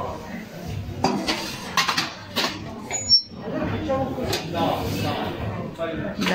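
Brass measuring spoons with wooden handles clink and rattle against each other in a large secondhand household goods shop in Rome, sharp metallic taps recurring over steady background murmur and voices.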